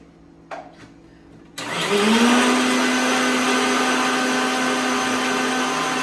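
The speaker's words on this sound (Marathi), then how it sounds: "हाच मिक्सर आहे जो मसाला वाटून घेतलाय तिने" An electric mixer grinder grinding masala starts after a brief quiet moment with a couple of clicks, then spins up into a loud, steady whine that holds to the end.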